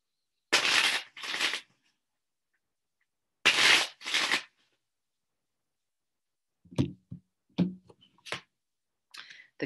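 Osho Zen Tarot cards shuffled in two separate bursts of riffling, each a pair of quick crisp swishes, followed by lighter scattered taps and slides of the cards being handled, close and alone with no talk.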